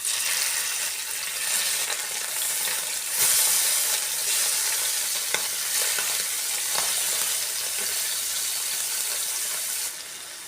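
Masala-coated fish fries in hot oil, producing a loud, continuous close-up sizzle with faint crackles across the whole stretch and no talking.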